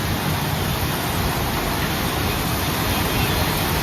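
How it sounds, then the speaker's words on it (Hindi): Heavy storm rain pours down with water flooding the ground, a dense, constant roaring hiss that stays loud and unbroken throughout with no voices over it. "किट्टू बारिश का मजा लो"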